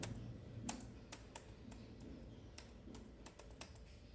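Someone types a command on a computer keyboard, producing a quiet run of crisp, irregular key clicks close by over a low background hum.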